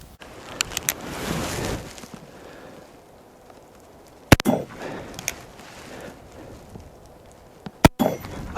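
First generation Colt Single Action Army artillery model revolver in .45 Colt with a 5.5 inch barrel, fired outdoors: a few sharp single shots spaced apart, with quieter rustling and handling sounds between them.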